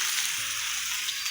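Dried fish and eggplant hitting hot oil in a frying pan for a Bengali curry with potatoes, tomato and vegetable stalks, giving a loud, steady sizzle with a brief low thump as the food goes in.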